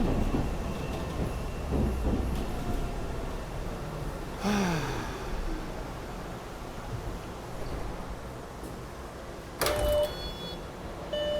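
A Boston MBTA subway train bound for Ashmont rumbles steadily along the tracks with clattering, brief squeals and a couple of louder mechanical bursts, heard from inside the car.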